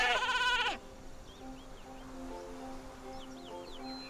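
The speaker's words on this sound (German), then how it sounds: "das sind doch bloß Schafe" Sheep in the video game Skylanders Spyro's Adventure give one loud, drawn-out bleat at the start, followed by quieter game ambience with faint chirps.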